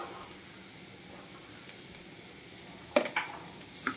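A spoon stirs carrot and moong dal seasoned with cumin powder and salt in a pan, a faint low sizzle throughout, then a few sharp scraping clinks near the end.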